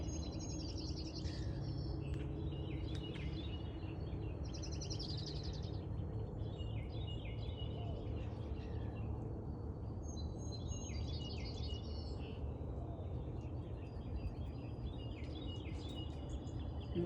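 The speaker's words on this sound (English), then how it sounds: "And listen to the birds, aren't they beautiful?" Small birds chirp and twitter around a backyard feeder at breakfast time, a steady stream of high, bright calls over a constant low outdoor rumble, with no talking.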